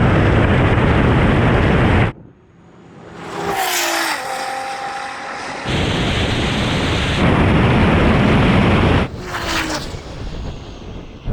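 Nissan GT-R, Porsche 911 Turbo S and a rallycross car drag racing, loud roaring engines close by, broken by a sudden drop to near quiet, then rising whines and a renewed roar.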